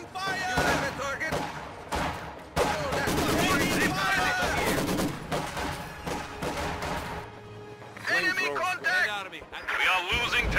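Constant rifle and machine-gun fire rattles through a Company of Heroes 2 online battle, loud and dense with bursts and explosions, while game voices shout over the gunfire.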